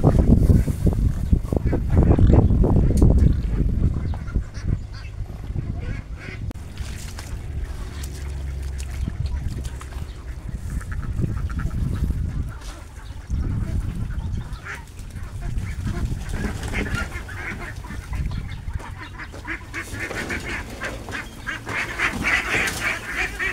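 Six-week-old ducklings quack and chatter steadily while feeding, a busy cluster of nearby calls with constant background noise and no clear talking.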